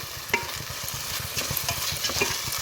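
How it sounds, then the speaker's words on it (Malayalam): Prawn biryani masala stirred in a pan, a steady sizzle of frying with spoon scrapes, close and continuous with no voices. "നന്നായി ഇളക്കി കൊടുക്കാം."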